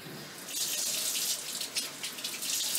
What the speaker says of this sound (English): So I'm going to go ahead and turn my water on